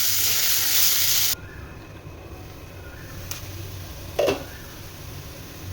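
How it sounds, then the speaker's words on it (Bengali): Cumin seeds and a bay leaf sizzle in hot oil for tempering, a loud bright hiss that drops abruptly to a quieter steady fizz, with a brief clatter later. "ফোড়নে দেখো জিরে দিয়েছি, আর একটু তেজপাতাও দেবো"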